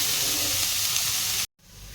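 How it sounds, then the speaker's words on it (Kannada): Radish pods fry in a spoonful of oil with a steady, loud sizzle and hiss. The sizzle cuts out abruptly for a moment, then comes back softer. "ಇವನ್ನ ಸ್ವಲ್ಪ 1 ಸ್ಪೂನಷ್ಟು ಎಣ್ಣೆ ಹಾಕಿ ಈ ಥರ ಹುರ್ಕೊಳ್ರಿ"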